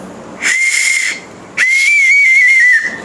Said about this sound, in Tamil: இது வந்து பர்த்டே பார்ட்டி விசில்.